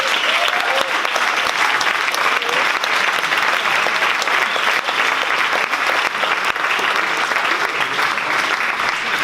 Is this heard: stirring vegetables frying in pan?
no